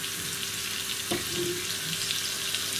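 Cumin seeds fry in melted butter with a steady, close sizzle, a brief stirring clatter partway through and a soft hum underneath.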